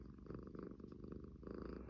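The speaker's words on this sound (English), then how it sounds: "You purr loud." A cat purring loudly right up close, a steady rumbling purr that rises and falls with each breath, heard alone with no talk.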